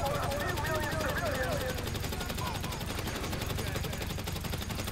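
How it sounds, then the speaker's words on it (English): Rapid, continuous automatic gunfire in a video game, a dense steady rattle running the full length at moderate level, with background voices and game noise mixed underneath. "Dang, the bullets ain't stopping"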